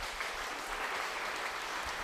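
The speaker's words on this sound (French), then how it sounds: "Bon, écoutez, on va les applaudir." Studio audience applause on a French-language talk radio show, a brief, fairly quiet and even burst of clapping with no voices over it.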